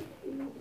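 A pigeon held in the hand gives a short, soft coo, faint and close, with a brief low warble and nothing else.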